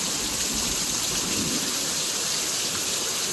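Heavy summer rain pours steadily in a dense, continuous hiss, loud and unbroken, with a faint low rumble underneath.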